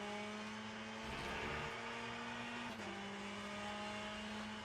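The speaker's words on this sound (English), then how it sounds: "This car is so much better to drive than the Aston." A race car engine drones steadily in the Le Mans Ultimate sim, holding a sustained tone with a brief rise and shift mid-clip, fairly loud and without speech.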